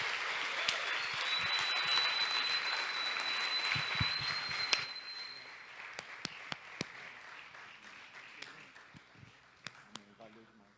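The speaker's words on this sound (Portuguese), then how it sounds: "Um salve de palmas, galera." Crowd at a Christian event clapping and cheering for a few seconds, then the applause thins out into scattered claps while a voice speaks over it.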